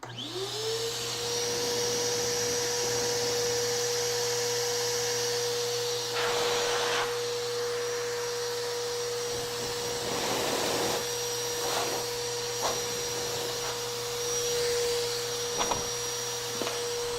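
An 8 gallon wet/dry vacuum runs in blower mode with a loud, steady motor whine and airy roar, joined by a few brief rustles and knocks.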